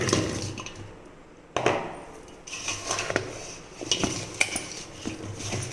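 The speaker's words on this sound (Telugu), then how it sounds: "ఇదిగోనండి, ఇందులో ముక్కలు వేసేస్తున్నాను నేను." Raw mango pieces tipped into a bowl of pickle spice mix for a Telugu mango pickle, with clattering thuds of pieces and utensils against the dish, close and uneven, no talking.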